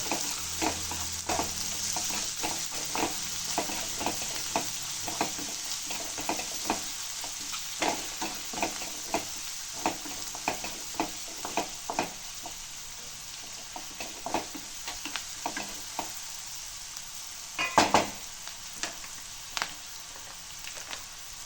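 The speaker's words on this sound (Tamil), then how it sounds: "கொஞ்சமாக நான் உப்பு கொட்டிக்கிறேன். அப்புறம் கருவேப்பிலை நல்லா வதக்கிடலாம்." Curry leaves and salt sautéed in hot oil in a pan for a cauliflower and pea fry, with a continuous close sizzle, regular scraping stirs and a louder clatter near the end.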